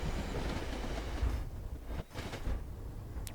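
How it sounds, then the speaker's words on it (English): A passing inbound commuter train on the MBTA Worcester line in Train Sim World rushes by in a dense, continuous rumble with faint rail clatter, steady and close throughout. "that was another inbound train that we just passed"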